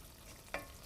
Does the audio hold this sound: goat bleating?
no